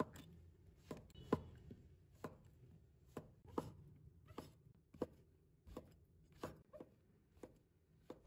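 A knife cuts king oyster mushroom into thick slices on a board, a steady run of crisp, fairly quiet taps at roughly even intervals, close up with no voices.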